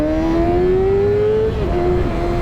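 Kawasaki Ninja 636 motorcycle engine on a test ride, a steady rising whine as it accelerates through the revs, then a brief dip at a gear change before pulling again, loud and close with constant wind rush underneath.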